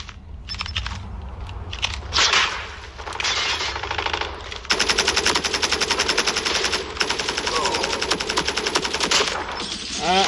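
Rapid automatic gunfire from Call of Duty rings out in dense sustained bursts, with crackling shots and impacts layered loudly throughout, broken by brief pauses before more firing resumes.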